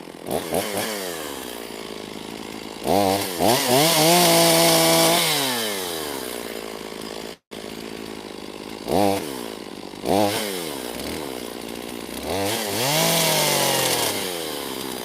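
A chainsaw cuts leftover black locust and cherry logs. Loud, close engine revs rise and fall between idling, several cuts in a row with one brief cutoff midway.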